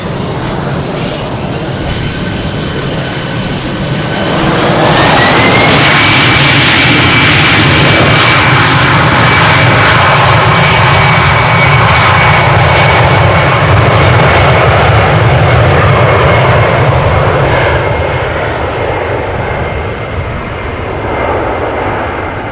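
EasyJet jet airliner departing runway 36L at Amsterdam Schiphol, its engine roar swelling sharply after a few seconds into a loud, sustained blast with a rising whine, then gradually easing as it climbs away.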